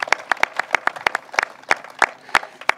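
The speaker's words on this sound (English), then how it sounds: "So give him a round of applause." A small audience gives a brief round of applause, with distinct individual claps in a loose rhythm, fairly close and clear.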